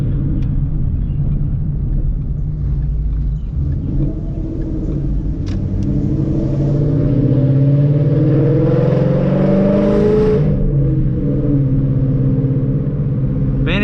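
A Ford Mustang S197 accelerating out of a corner on winding roads, its engine rumbling and rising in pitch as it pulls hard, heard steadily from inside the car.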